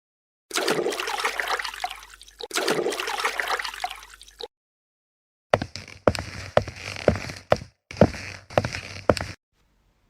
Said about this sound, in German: Ab ins Wasser.